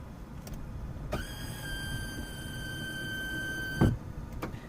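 Electric motor whine of the automatic roll bar on a 1991 Mercedes 500SL R129 rising or lowering, a steady mechanical hum of about three seconds ending in a soft thump, close by with quiet background.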